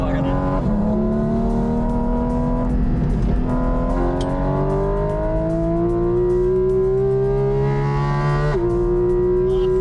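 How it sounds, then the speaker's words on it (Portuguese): A car on slick tyres revs high and loud, its engine note climbing steadily between two quick short shifts. "Fazer o short shift no carro, realmente para conseguir ouvir o ronco a 9000"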